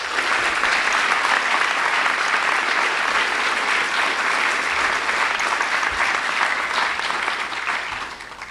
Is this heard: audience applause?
yes